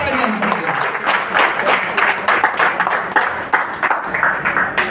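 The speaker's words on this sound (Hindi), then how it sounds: "तो एक जोरदार तालियां।" An audience at a stage event breaks into loud, sustained applause, dense clapping filling the hall from start to finish with a voice faintly mixed in.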